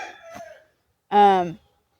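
Chickens on a farm scratching in fresh hay give a brief cluck-like call at the start, then one loud, harmonic squawk about half a second long, close by, followed by quiet.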